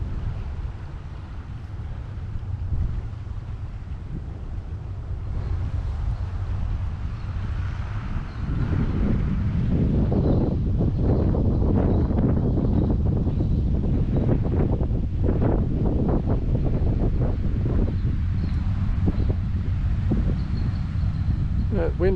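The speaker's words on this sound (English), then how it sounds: "Wind has come up" Wind blows steadily at an outdoor lookout beside a dam, rumbling low and gusting against the microphone with a constant roar that grows stronger halfway through.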